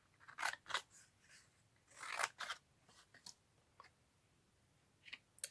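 Scissors snip through cardstock for a butterfly shaker card, several quick crisp cuts in short irregular bursts, close and clear with no talking.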